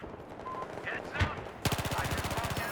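Rapid machine gun fire aimed at a robot in a video game, a dense burst of evenly spaced shots that starts abruptly and runs to the end over a noisy game background.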